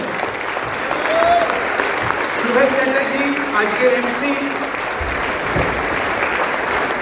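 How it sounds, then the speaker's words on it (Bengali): An audience applauds steadily at an indoor gathering, a dense sustained clatter of many hands while someone speaks over it through a microphone. "আমি একটু হাততালি চেয়ে নেব শুভর জন্য"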